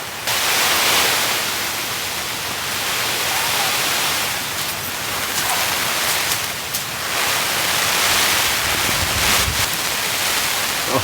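Stormy wind roars continuously around a campsite in heavy rain, swelling and easing in strong gusts, loud and close, with no voices.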